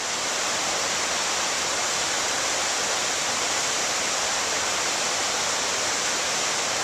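River water rushes down a rocky chute on the Little Pigeon River near Greenbrier in the Smokies, a loud, steady, broadband roar that fills the whole stretch without any voices.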